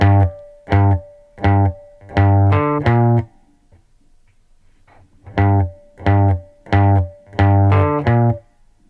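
A short guitar phrase of plucked, ringing notes plays twice, with a brief pause between repetitions.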